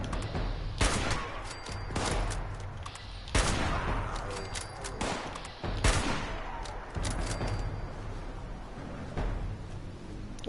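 Loud, heavy gunshots from a gun in Fallout 76, a handful of booming reports spaced a second or two apart with a rumbling tail after each, a faint voice now and then.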